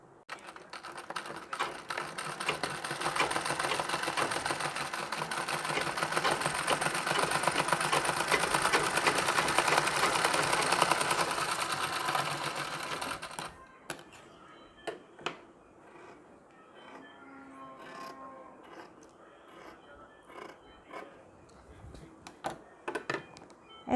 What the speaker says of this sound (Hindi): अब हम पहले यहाँ पर सिलाई लगा लेंगे।